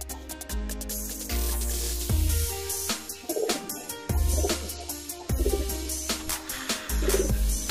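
Pigeons coo in low, rounded pulses at close range, several throaty phrases rising and falling in a loose rhythm alongside faint chirps, with no talking.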